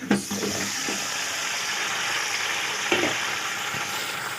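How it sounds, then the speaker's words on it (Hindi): Chicken frying with onions for nihari sizzles in a steady, hissing wash, with a couple of brief clatters of a spoon or pan at the start and near the end. "अब अपना चिकन शामिल कर देंगे इसमें"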